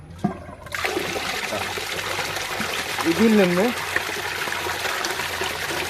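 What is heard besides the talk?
koi pond filter running, water flowing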